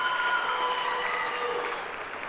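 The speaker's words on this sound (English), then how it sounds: "You can clap for Mr. Bianchi again." An audience at a high school graduation ceremony claps, with dense and steady applause that fades slightly toward the end.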